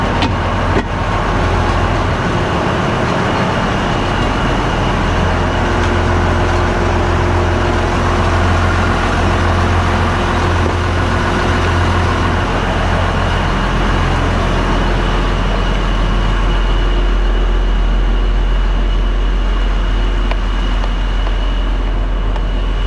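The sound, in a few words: Case IH 2388 combine engine idling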